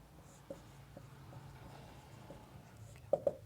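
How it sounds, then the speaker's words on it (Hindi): Pen writing numbers by hand on paper during a math lesson, soft faint scratching strokes with a couple of sharper taps near the end, quiet and alone. "तो यहाँ पे लिखेंगे पहली संख्या"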